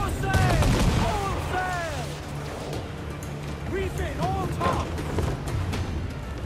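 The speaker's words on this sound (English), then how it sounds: "See how you like being shot at with cannons." Repeated booming ship cannon blasts from Assassin's Creed IV, loud and overlapping in quick volleys, with whistling projectile sounds and some background chatter.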